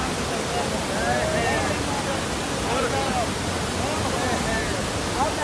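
Swollen flood river current rushing after heavy rain, a dense, unbroken roar of churning water at steady loudness, with faint voice traces beneath.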